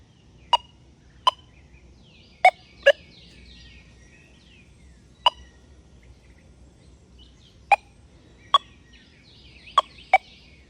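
A metal detector chirps as its coil sweeps over a nickel buried in mineralized soil: about eight short, sharp electronic chirps come at uneven intervals over a quiet background.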